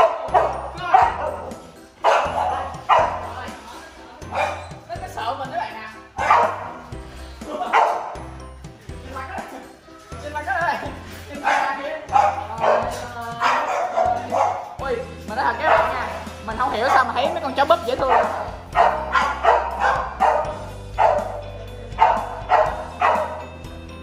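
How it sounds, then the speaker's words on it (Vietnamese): Several small dogs at a pet cafe barking and yipping repeatedly in quick bursts, close and loud, with people talking over and between the barks throughout. "Chó búp dễ thương."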